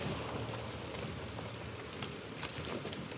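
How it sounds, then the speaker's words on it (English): Rain in The Last of Us Part II video game, a steady dense patter of drops on surfaces that holds at an even level throughout, with no talk over it. "it's raining"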